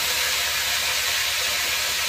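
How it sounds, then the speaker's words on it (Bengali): Vegetables, including eggplant and potato, hit a hot frying pan in a village kitchen and give off a loud, steady, close sizzling hiss that fills the short moment without a break. "এবার একটু সবজিগুলো দিয়ে দিচ্ছি"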